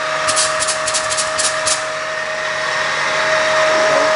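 A cutting tool turning down the outside diameter of a V8 cylinder head valve guide, a loud steady high-pitched whine with a constant tone, some rapid chatter early on, close and without speech.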